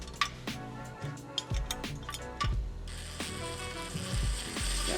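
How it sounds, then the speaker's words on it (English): A ratchet and socket spin bolts into rivet nuts in the factory holes on a 2024 Ford Ranger during a skid plate install, making bursts of quick close clicking with a metallic clink now and then. "It is helpful to have an impact or a socket so that you can spin these into the factory holes here."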